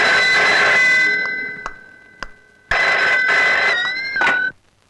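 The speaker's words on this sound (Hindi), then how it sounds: "आपका टेलीफोन है।" An electronic telephone ringing in a Hindi film scene, loud and close, sounding in repeated bursts with short gaps before cutting off, with no talking.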